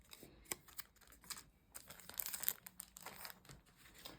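Sticker sheets being cut, heard as quiet, close crinkly snips and rustles of paper in an irregular series, with no talking.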